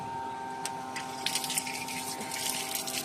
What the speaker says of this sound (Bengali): এই মাত্রই পাম্পটা চালালাম এই মাত্রই পাম্প চালিয়েছি